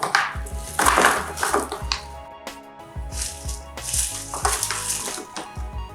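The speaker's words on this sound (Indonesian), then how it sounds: "Goreng sisanya hingga habis." Chicken pieces deep frying in oil for homemade KFC-style fried chicken, with a steady crackle and sizzle under clattering and rattling of utensils against the pan, close and busy.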